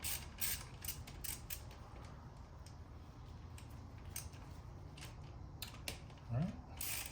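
Wrench on a bolt of a barn-find Honda CRF motorcycle, a run of soft ratcheting clicks and creaks under light background noise, with a short louder scrape near the end.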